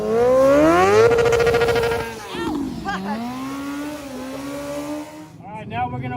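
A motorcycle doing a burnout with its back tire spinning, the engine revving hard and close, its pitch climbing and then dropping and wavering as the rear wheel churns.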